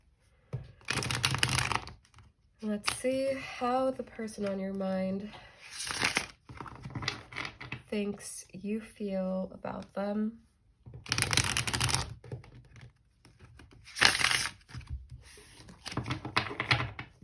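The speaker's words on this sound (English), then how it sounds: "let's get shuffling" Tarot cards are shuffled in several quick riffling bursts, alternating with a person speaking close to the microphone between and during the shuffles.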